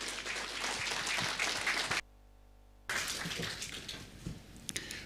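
A church congregation at a Sunday service breaks into dense, sustained applause, cut off by a short silent gap and then resuming, busy and fairly close.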